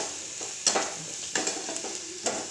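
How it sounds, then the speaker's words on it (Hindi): Pasta masala being stirred into frying onions in a pan: a low sizzle broken by three sharp, close scraping strokes of the spoon, with no voice. "प्याज में मिक्स कर दूंगी।"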